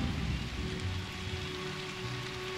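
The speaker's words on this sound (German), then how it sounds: "es regnet hier einfach überall, auf der ganzen Map" Rain falling in the Anno 1800 city-building game, a steady even hiss of rain on surfaces, moderately loud and constant throughout the short stretch, with no talking.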